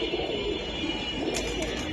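Pigeons at a pigeon market coo in a soft, continuous murmur, steady and moderately near, with no talk.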